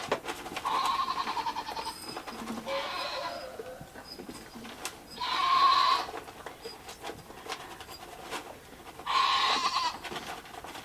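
Goats bleat on a homestead, several distinct calls spaced a few seconds apart over a quiet background, fairly close and clear.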